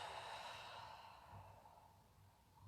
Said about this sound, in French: et soufflez par la bouche